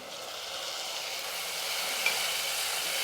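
Ground tomato paste hits fried onions in a pan, giving a steady, close sizzling hiss that holds evenly for the whole stretch, with one tiny pop near the end and no talking.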